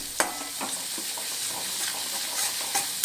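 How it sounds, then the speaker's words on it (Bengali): A spoon stirs spiced masala frying in a pan for a fish curry, with a soft steady sizzle under a handful of scraping and tapping strokes scattered through the short stretch. "ভালো করে নেড়ে চেড়ে কষিয়ে নিচ্ছি"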